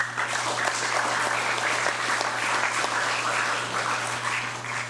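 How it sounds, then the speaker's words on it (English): A round of applause fills a legislative session hall during the 21st Congress regular session, steady and sustained at moderate distance, with a low constant hum running underneath. "Can we give them a round of applause?"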